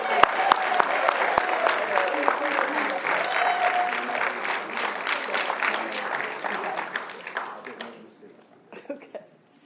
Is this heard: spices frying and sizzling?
no